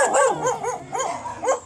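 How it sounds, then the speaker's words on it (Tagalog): Dogs barking at a home on a mountain, four sharp yelping barks in a steady rhythm, fairly close and loud with no talk. "Kanang mga iro guys."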